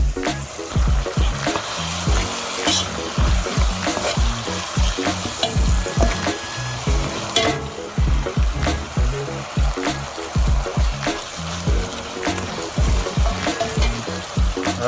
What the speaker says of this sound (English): we're gonna wait for the onion to cook and then we'll add in the garlic